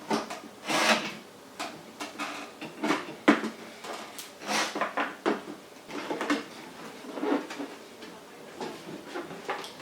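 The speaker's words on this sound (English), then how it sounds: "take your screwdriver and put it in between the seam and start pulling it apart" A screwdriver prying apart the sealed plastic seam of a Honda Civic headlight, giving repeated scraping, creaking and sharp cracking bursts close up, with no talking.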